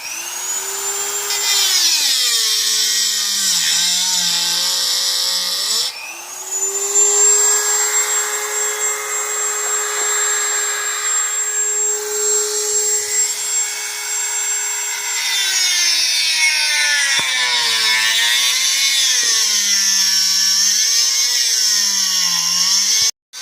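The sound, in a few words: Dremel cutting a keyway into a pit bike kickstarter shaft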